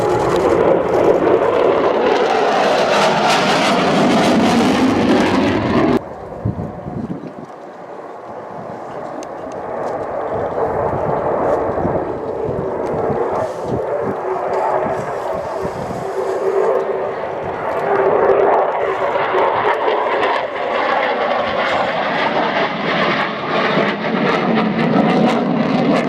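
A Dutch F-16 fighter jet flies at the RIAT 2014 airshow, its loud, broad engine roar filling the whole stretch. The roar dips briefly partway through, then builds steadily again.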